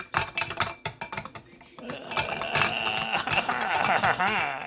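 A metal screw scrapes and clinks as it is fitted into a meat grinder attachment for making Colombian chorizo, giving close mechanical ratcheting and clinking with a brief quieter stretch midway.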